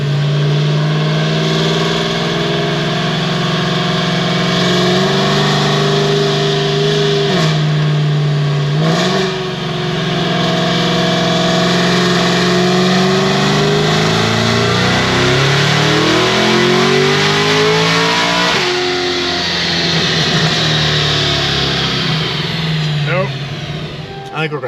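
A 1200 hp Stage 5 Cadillac CT5-V Blackwing roars through a dyno pull, its supercharged engine rising in pitch through the gears with loud, close, sweeping revs and brief shift drops, a high whine riding on top.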